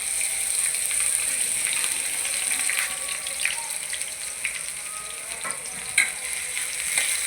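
Chopped onion and garlic frying in hot oil for a Bengali leafy greens dish, giving a steady, close sizzle and crackle with a few brief pops throughout.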